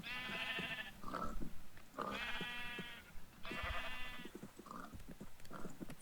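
Sheep in Minecraft bleat three times in the game, each a drawn-out, wavering baa with short thumps and shuffling noises between them. The calls come at a steady pace, loud and close, and no one speaks.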